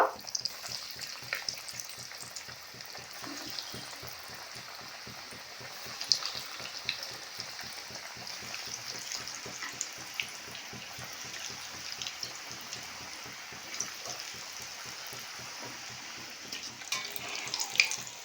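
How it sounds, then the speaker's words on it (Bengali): Continuous bubbling sizzle of snacks deep frying in hot oil, steady and fairly soft throughout, with occasional light clinks. "এবার বাকি যেগুলো রয়েছে সবগুলো একসঙ্গে"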